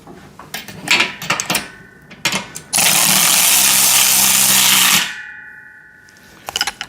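Bolts on a VEVOR pec deck and rear delt home gym machine tightened with a power driver: a steady whirring burst of about two seconds, framed by scattered metallic clanks and knocks.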